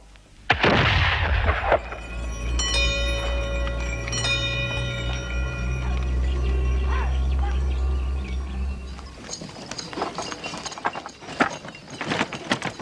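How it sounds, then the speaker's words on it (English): A daily noon gun fires as a time signal: one loud, sharp blast with a short decaying tail, followed by a steady low mechanical drone and hum, then scattered clatter toward the end. "There's a gun fired every day at noon."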